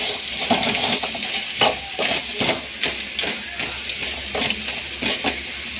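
Crab sautéing with ginger garlic paste in a pan, a continuous sizzle broken by rhythmic scraping and clinking of a spoon stirring against the metal.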